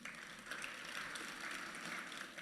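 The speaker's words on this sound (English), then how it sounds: "Can I get a round of applause, please?" An audience applauds at a Regina Chinese Freemason Year of the Rat celebration, a faint, steady wash of clapping that continues evenly throughout.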